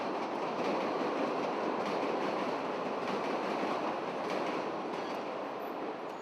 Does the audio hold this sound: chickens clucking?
no